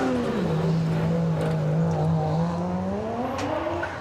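A Subaru WRX rally car at a hillclimb, its engine note droning loudly and then climbing in pitch as it races past close by, with no talk.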